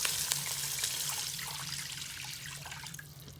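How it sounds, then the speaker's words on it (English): Water pours into a soup pot for salmon soup in a Power XL cooker, a close, steady trickling splash that slowly fades over a few seconds. "I'm going to pour my water in there"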